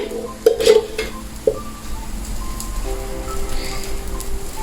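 Ghee sizzles on a bajra flatbread in a hot pan, a steady close frying hiss after a few sharp clinks and scrapes of a utensil at the start.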